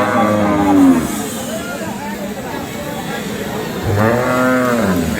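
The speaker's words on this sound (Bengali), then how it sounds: "এই পাশে আরও একটি গরু দেখছি" A cow lowing at a rural cattle market selling Sahiwal, Sindhi and local dairy cows and calves, with two loud, close, drawn-out moos separated by a pause, over a steady crowd murmur.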